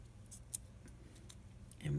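Scissors cut through folded paper to shape a craft flower, giving a few quiet, sparse snips over a soft background. A voice comes in at the very end.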